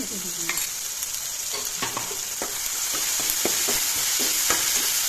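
Ginger, garlic and chili paste fries in a pan with a constant bright hiss, while a utensil clicks and scrapes against the metal in irregular taps; a voice briefly murmurs over it.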